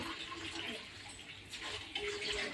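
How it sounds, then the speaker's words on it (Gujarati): Tap water runs in a steady, moderate stream while something is rinsed in several changes of water, a continuous splashing hiss that swells slightly toward the end. "બસ બસ બંધ કરી દે નળ."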